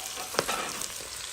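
Onions browning in a pan for a smoked boucané cabbage dish sizzle close up in a brief, steady crackling hiss with a quick clink of stirring.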